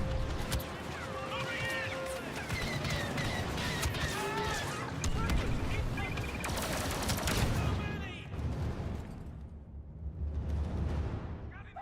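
Gunfire rattles through a Warhammer 40K video game battle, with dense overlapping bursts and shots under shouted voices and a loud rumbling backdrop, fading briefly before another heavy blast.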